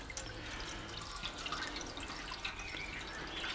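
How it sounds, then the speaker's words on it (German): Water is poured into the metal drip pan beneath a pork roast on a grill, making a steady splashing trickle that runs for several seconds without a break. "Dann nehme ich noch ein bisschen Wasser, gebe das hier unten in die Schale rein."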